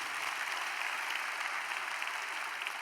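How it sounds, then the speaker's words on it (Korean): A church congregation at a Sunday worship service claps together in a brief, steady burst of applause, moderately distant and even throughout, with no voices standing out. "우리 주님께 영광의 박수 올려드리겠습니다."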